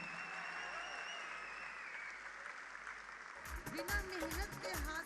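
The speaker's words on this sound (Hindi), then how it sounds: "मैं आपकी जबरदस्त तालियों के बीच में इनवाइट करता हूँ" An audience claps at a company event to welcome the firm's founder and chairman; dense applause swells in the second half, mixed with music and a voice.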